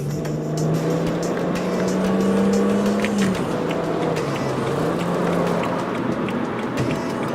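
BMW 335i accelerating onto a freeway, heard from inside as a steady engine drone that climbs in pitch, briefly drops at a shift, then builds again, with road and wind noise throughout.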